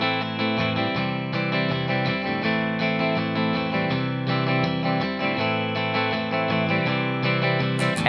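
Distorted electric guitar plays the bridge chord progression of a song, dense and loud, with chords changing in a driving rhythm throughout.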